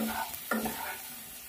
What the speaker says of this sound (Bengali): পেঁয়াজ, টমেটো, আলু একসঙ্গে ভালো করে কষিয়ে নেব।